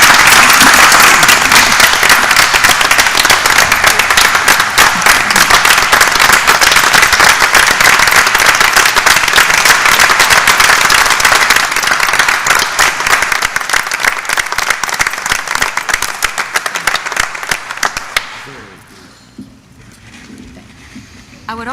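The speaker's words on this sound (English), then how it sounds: "So would you all join me in a round of applause?" A large board-meeting audience breaks into loud, sustained applause, a dense patter of clapping that holds for about eighteen seconds before tapering off quickly into near silence.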